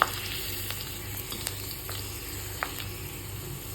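Black pepper and omavalli leaves frying in oil for a homemade hair oil, a steady crackling sizzle with a few sharp pops and light stirring taps.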